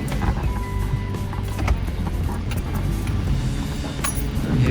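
Off-road vehicle drifting through deep mud, a loud, close, continuous engine roar with churning and splashing noise throughout, and no clear talk.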